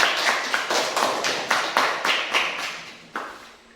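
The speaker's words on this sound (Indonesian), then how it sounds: "Tepuk tangan dulu untuk kerjasamanya." Group in a teacher-training classroom clapping in unison to praise teamwork: a quick, rhythmic run of close, crisp claps, followed by a pause and one last clap as the sound fades.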